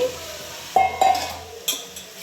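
Ridge gourd and potato stirred into a sizzling tempering bring a soft sizzle with a few sharp scrapes and clinks of the spoon against the pan, close and with no talking.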